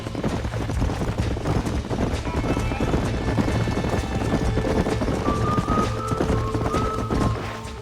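Horses in the Red Dead Redemption game clip-clop at a steady trot, dense overlapping hoofbeats over a continuous low rumble and wind, with faint tonal game music layered on top.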